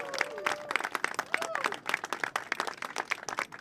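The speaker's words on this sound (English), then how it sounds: "Let's give them a round of applause for that." Audience applause at an outdoor rally of advocates, elected officials and transit leaders backing congestion pricing, a scattered burst of clapping with some crowd noise and faint voices mixed in.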